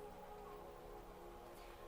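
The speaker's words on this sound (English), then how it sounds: "can you hear the rain?" Steady rain falling outside, a continuous soft hiss of drops spattering on surfaces, heard alone at low level with no talking.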